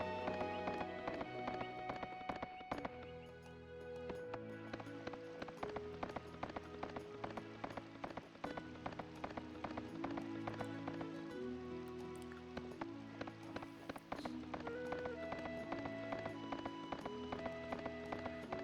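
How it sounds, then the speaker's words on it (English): Hooves of a horse galloping in the video game Suikoden III, a fast continuous clip-clop under game music, with no talking. "Go, horsey, go!"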